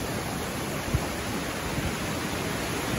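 Westmorland Falls in heavy flow, a dense, steady roar of rushing water filling the whole scene, constant and loud with a few faint knocks and no voices.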